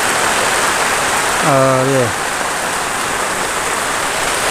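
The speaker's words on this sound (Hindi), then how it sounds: "बारिश होने लगी" Steady rain falls outdoors at Rajapur tehsil in Chitrakoot, a loud, even hiss of drops on surfaces throughout, with a brief spoken word from a man partway through.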